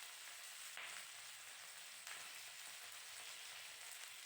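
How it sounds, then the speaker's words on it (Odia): Potato and cauliflower fry in mustard oil with a faint, steady sizzling hiss and a couple of soft stirring bumps, heard alone without speech. "ଏବେ ତେଲ ଗରମ ହେଇଗଲା ପରେ ଏବେ ଆଳୁ ଫୁଲକୋବିକୁ ଭାଜିବା, ସେଥିରେ ସ୍ୱାଦ ଅନୁସାରେ ଲୁଣ ହଳଦୀ ଦେଇକି।"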